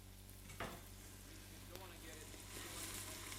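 Chopped onions sizzle in hot oil in a pot for a Cape Verdean cachupa, a steady quiet frying hiss with a couple of brief stirring clatters.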